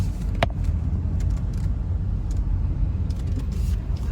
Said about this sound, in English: You see the cars going in.